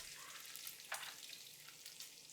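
Bacon frying in a pan, a faint, steady crackling sizzle with a few sharper spits and pops of hot grease.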